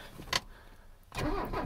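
A 1985 Mercedes 300CD diesel is cranked and catches. A short burst of starter noise comes first, then a quiet pause, then the engine fires into a steady, rough diesel idle close by.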